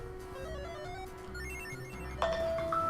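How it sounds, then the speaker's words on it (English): A mobile phone ringtone goes off in a room, a short melodic tone that enters partway through and rings clearly over a faint background. "silence my phone while I'm doing these recordings."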